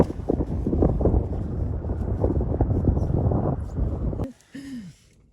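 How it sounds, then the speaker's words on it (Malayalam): Strong, cold outdoor wind in Canada buffets the microphone in a loud, continuous rumbling roar for about four seconds, then cuts off abruptly. "ഭയങ്കര തണുപ്പാണ് ഇന്ന് ഭയങ്കര കാറ്റ്"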